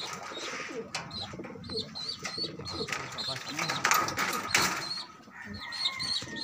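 Pigeons coo repeatedly and close by, with soft chirps mixed in; a person talks over the birds at times.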